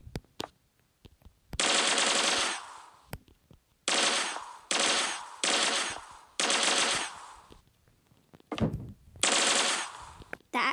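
A sniper rifle fires in a Cops and Robbers video game, several loud sustained bursts of gunfire separated by short silences, with no talking.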